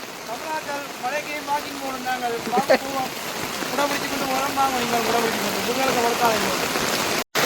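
Steady, dense hiss of heavy rain pouring down throughout in Jaffna, Sri Lanka, with a person talking over it at close range.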